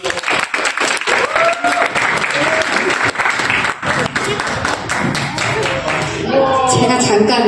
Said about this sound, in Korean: 많은 환호와 박수